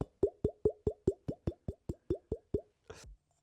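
A fish-shaped ceramic vessel makes a quick run of about eleven hollow, bubbly glugs in an even rhythm, close and clear, followed by a short splashy gurgle.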